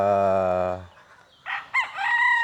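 A rooster gives one long, loud crow, then a few short clucks from chickens follow, at a gamefarm.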